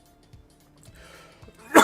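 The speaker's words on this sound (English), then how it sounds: "I gotta clear my throat before I get into this." A man on a sports talk show clears his throat once, a sharp, loud rasp near the microphone that follows a stretch of quiet low murmuring.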